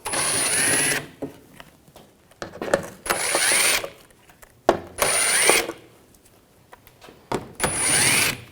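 An 8mm socket on a power tool backs out shield bolts under a 2007-2013 BMW X5, sounding as four loud whirring bursts of about a second each, close up, with ratcheting clicks and tool handling in the gaps.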